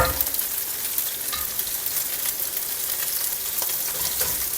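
Salmon with tomatoes, olives and capers sizzling in a pan over turned-down heat: a steady, soft crackling fry with scattered pops, fairly quiet and continuous, with no voices over it.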